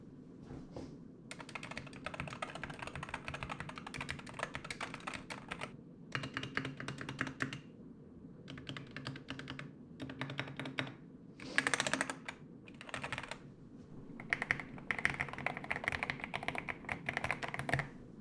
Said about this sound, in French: D'ailleurs, voici le son du clavier.